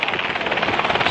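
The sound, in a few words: helicopter giving rides at fair parking lot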